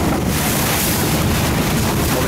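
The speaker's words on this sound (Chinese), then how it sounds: "这边海浪，哇！" Sea waves surging past the bow of a moving boat off the coast near Xiji in the Penghu islands, Taiwan, a steady loud rush of water blended with heavy wind buffeting the microphone, no voices.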